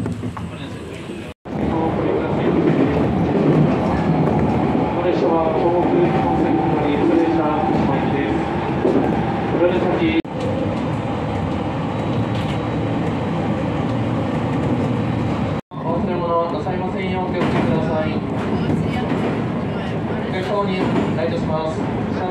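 A Shinkansen bullet train runs on the rails on its way into Fukushima, a loud, steady rumble heard from inside the carriage, broken by a few brief dropouts.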